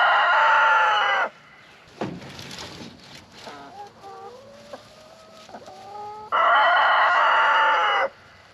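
Bantam hens on a spring homestead cluck and squawk loudly in two bursts, with softer clucks and a rooster-like call in between, close to the listener.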